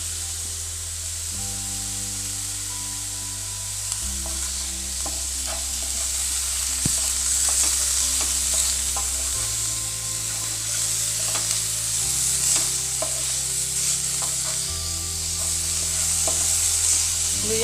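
Vegetables fry in oil in a pan while being stirred, a continuous hissing sizzle with occasional spatula scrapes and small pops, steady and close, with a low hum underneath.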